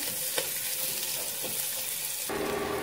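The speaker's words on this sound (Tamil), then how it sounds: "இதை நல்லா வதங்கட்டும்" Onions sautéing in a pan for a curry, a steady bright sizzle with a few soft stirring scrapes, and the frying sound turning louder and fuller near the end.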